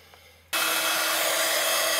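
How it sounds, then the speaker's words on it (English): A heat gun switches on abruptly after a quiet moment and blows with a loud, steady roar while drying a paper napkin decoupage. "with our heat gun."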